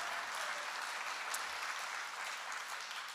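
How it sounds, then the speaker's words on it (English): An audience at an outdoor music festival gives a steady round of applause, a dense, even wash of clapping throughout with no talk over it. "folks a round of applause"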